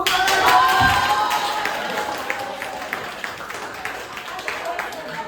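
Hands clapping in applause from a group at a student presentation, a dense steady patter that starts strong and slowly thins out, with voices talking over it.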